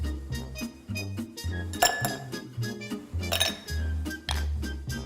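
Ice cubes drop into a glass for a summer drink, with several bright clinks and rattles in quick bursts over soft background music.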